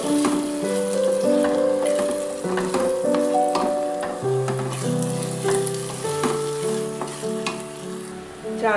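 Rice for morog polao fries in a pan, a loud, steady sizzle broken by repeated scraping strokes as the grains are stirred.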